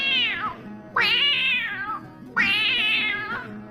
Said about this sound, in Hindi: तब उसको कोई बात करने का आवाज और बिल्ली का आवाज सुनाई दिया